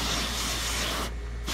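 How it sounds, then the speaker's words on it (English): A garden hose sprays the vents under a boat livewell lid, making a loud, close, continuous hiss that cuts out briefly near the end and then resumes. "Underneath side of this lid, I'm gonna spray out these vents"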